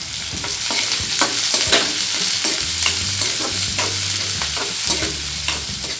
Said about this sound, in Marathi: थोडीशी जिरी त्याच्यामध्ये आपण कांदा टाकून घेऊया